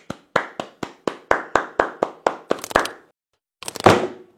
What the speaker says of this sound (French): Je suis déjà debout, j'applaudis.